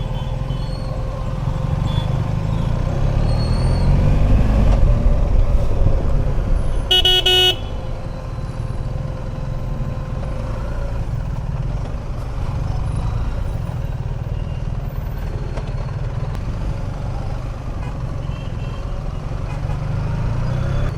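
Slow bumper-to-bumper city traffic around a big motorcycle, engines rumbling nearby, with a short burst of horn toots and beeping partway through over the steady road noise.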